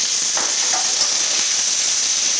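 Asparagus and garlic stir-frying in a hot wok give a steady, loud hiss of sizzling oil, with a few soft scraping stirs early on and no talk.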